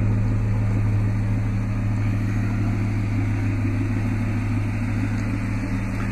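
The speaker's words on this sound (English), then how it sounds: "Has the iForce V8 engine, dual exhaust." A 2003 Toyota Tundra Limited with the 4.7-liter iForce V8 and dual exhaust idles steadily, a low, even hum with no revving, heard up close and alone.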